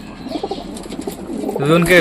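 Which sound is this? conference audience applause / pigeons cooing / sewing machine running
pigeons cooing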